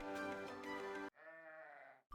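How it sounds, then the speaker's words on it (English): A sheep bleats alone, a single clear, wavering call lasting about a second after a louder burst of other sound, close and fairly loud. "Say hello to the woolly and gentle sheep."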